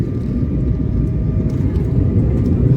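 Passenger airplane flying over the sea on a Diu to Somnath route, a steady loud cabin roar of engines and airflow with no talk.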